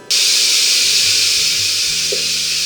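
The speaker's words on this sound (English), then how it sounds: "I'm going to go ahead and release the steam as so." A Power Pressure Cooker XL vents steam in a loud, continuous hiss that bursts on abruptly and holds steady, close and alone, with faint low rumbles underneath.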